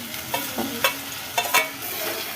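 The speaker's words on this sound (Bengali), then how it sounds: "আর গ্যাসের ফ্লেমটাকে লো করে আমরা এটাকে ততক্ষণ ভাজবো যতক্ষণ না এর মধ্যে থেকে কাঁচা গন্ধটা চলে যায়" Ginger garlic paste fries with onions in a pan, a soft steady sizzle punctuated by several short scraping stirs of a spoon, near and moderate in level with no speech.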